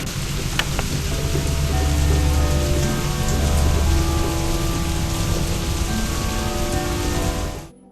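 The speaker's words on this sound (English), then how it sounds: "I think it's going to rain all night." Heavy, steady rain in the video game Five Nights with Froggy 2 pours down in a dense, continuous hiss with low rumbling underneath, cutting off abruptly at the end.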